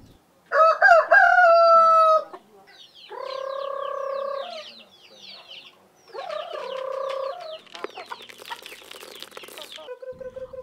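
A rooster crows loudly several times in succession, with native desi chickens clucking and a brief flutter of wings between crows.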